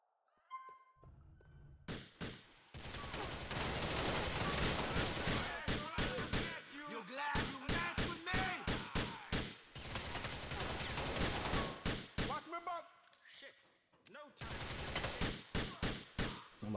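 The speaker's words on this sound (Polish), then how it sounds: "Szczelanina ostra." Intense, dense gunfire in long sustained bursts broken by short pauses and a few single shots, loud and close throughout with no speech over it.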